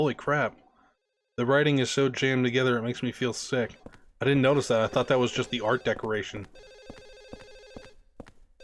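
A telephone rings in the background of a Silent Hill 4: The Room apartment scene, a steady electronic bell trill coming in toward the end after stretches of close, loud talk.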